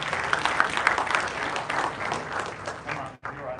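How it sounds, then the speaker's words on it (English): Steady audience applause at a fish-breeding talk in St. Louis, a dense, even round of clapping filling the room for a few seconds with crowd noise mixed in, then breaking off suddenly. "give him a big round of applause"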